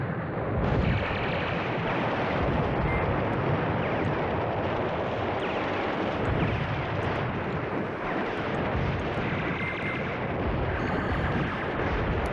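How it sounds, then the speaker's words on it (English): Artillery fire in the Command Ops 2 war game rolls on as a dense, continuous rumble of overlapping blasts at steady loudness, heard alone without any voices. "then I'm going to shoot you with artillery."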